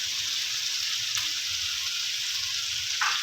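Mutton pieces with pulao masala frying in a pot, a steady bright sizzle running throughout, with occasional soft stirring scrapes and a brief utensil knock near the end.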